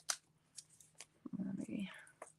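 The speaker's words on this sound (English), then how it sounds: "let's trim off the excess." Scissors trimming excess paper from a foiled greeting card, a few crisp close snips followed by a longer rustling cut, with faint whispery breaths between.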